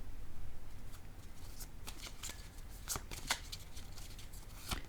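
Playing cards being handled and laid down on a table during a card reading, a series of soft papery slaps and shuffling clicks, close and quiet with no talk.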